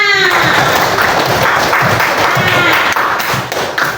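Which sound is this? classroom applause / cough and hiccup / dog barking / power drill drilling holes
classroom applause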